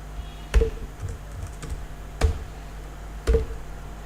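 Code being typed on a computer keyboard, three distinct clicky keystrokes spaced about a second apart over faint background hum, close and fairly quiet, with no talking.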